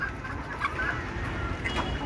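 Domestic desi chickens on a small egg-laying poultry setup cluck steadily and close by, with soft overlapping clucks and murmurs over a constant background hum.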